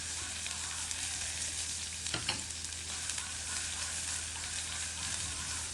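Small sambar onions frying with green chilies for a chutney, a continuous even sizzle close up with a brief stirring scrape partway through, no voices over it.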